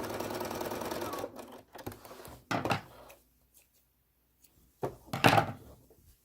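A sewing machine stitches a quilt block seam in a dense, steady run for about a second, then stops, followed by a few scattered clunks and handling thumps with quiet gaps between.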